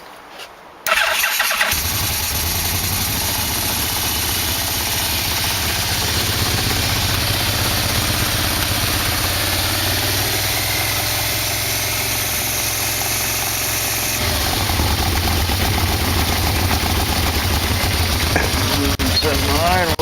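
A Yamaha V-Max motorcycle engine, choked and with idle being raised during carb sync, coughs to life after a brief crank and settles into a steady, loud, close idle that lifts slightly in pitch later on.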